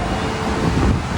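Cool wind blowing outdoors near a busy road in Bangna, a steady broadband rush buffeting the microphone without pause, with no voices.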